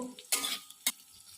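Onions stirred in a hot pan for egg chilli, two sharp scraping strokes of a utensil against the pan over a faint sizzle, close and fairly quiet.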